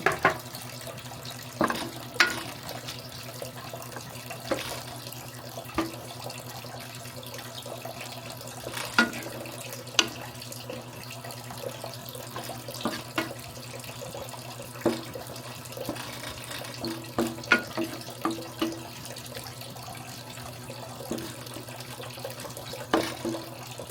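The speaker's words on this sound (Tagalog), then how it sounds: "Lagyan natin siya ng konting tubig para mag-absorb yung sotanghon." Water is poured into a pan to cook sotanghon glass noodles for fried noodles, giving a steady running, splashing wash under a constant low hum, with scattered soft clicks and clatters of cookware throughout and no talk.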